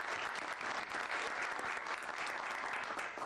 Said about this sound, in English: congratulations to you and your group, and a round of applause